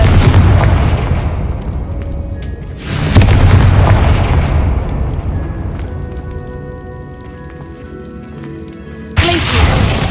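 A Confringo explosion spell cast in a video game: three loud booming blasts land near the start, around three seconds and near the end, each trailing into a long rumbling decay with faint game tones between.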